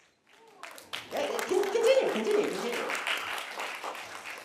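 Applause from an audience at a children's speaking contest swells after a brief spoken word, with cheering voices over steady clapping that fades near the end.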